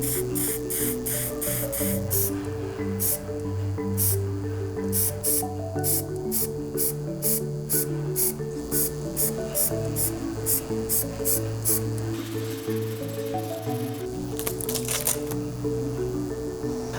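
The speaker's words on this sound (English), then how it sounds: "The spray of the paint from the can is getting up under that stencil" Aerosol spray paint hisses from a can over a stencil in a quick series of short, close bursts, with a steady tonal background running underneath.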